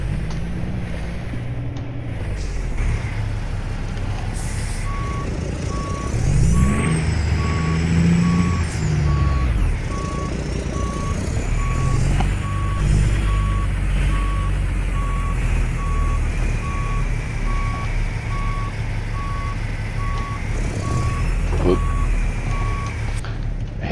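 Truck reversing beeps in American Truck Simulator: a steady, evenly spaced electronic beep repeating throughout over a continuous low engine drone, loud and near, with someone talking at times.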